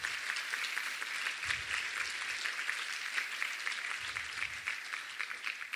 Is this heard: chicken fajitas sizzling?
no